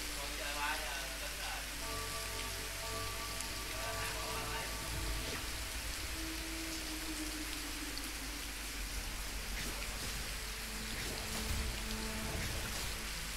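Steady rain falls in a broad, even hiss, with faint tonal background sounds and low voices mixed underneath.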